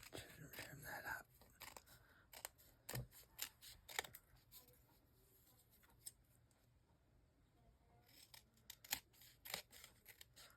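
Scissors trimming paper book pages into tags, several crisp close snips and paper rustles spread out in quiet surroundings, faint overall.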